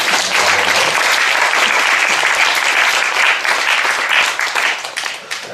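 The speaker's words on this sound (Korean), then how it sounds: "우리 10대들을 위해서 큰 박수 한번 올려드릴게요." A large audience at an early-morning gathering gives teenagers a big, loud, sustained round of applause, dense clapping that carries on steadily and then tails off near the end.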